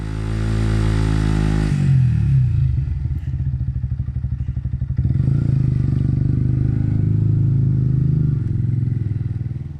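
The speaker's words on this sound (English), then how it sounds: "give it a quick clean and a burnout to celebrate the completion of the build" A Yamaha YZF R125 motorcycle roars continuously during a burnout, loud and close, its engine note dropping after an initial high rev and then holding a rough, pulsing drone with clattering underneath.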